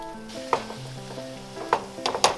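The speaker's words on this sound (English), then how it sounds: "So we're going to just add it to our sauce, leaving the fat in the bottom of the fry pan." Browned ground bison meat is stirred into sauce in a fry pan, giving a low sizzle under a steady tonal hum, with a few sharp scrapes and clacks of the utensil against the pan.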